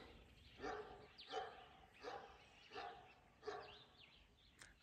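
A dog barks in the background, about five separate bark bursts spaced roughly evenly and sounding somewhat distant over a faint hiss.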